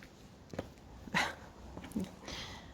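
Dogs give a couple of short, brief vocal sounds against windy outdoor noise, with faint rustling between them.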